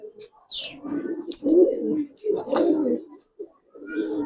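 Old-breed giribaz pigeons coo in a series of separate throaty bursts with short gaps between them, close by, with a faint higher chirp near the start.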